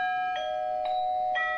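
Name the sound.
electric bell ringing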